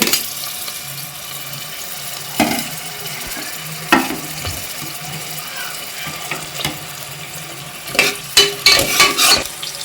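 Green chillies and onions frying in oil that is still warming up, for a country chicken fry, giving a soft steady sizzle under a few sharp clinks and stirring scrapes that grow busier toward the end.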